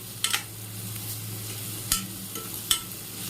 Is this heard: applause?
no